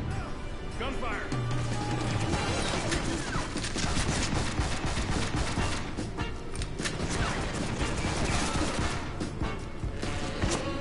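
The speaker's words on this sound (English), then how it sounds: "Gunfire!" Dense, sustained gunfire crackles through a loud, busy game mix, with bursts and booms overlapping continuously from start to finish.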